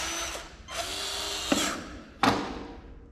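A mechanical riveter sets rivets in roofing with three buzzing mechanical bursts, two of them ending in a sharp snap, close and loud with no talk.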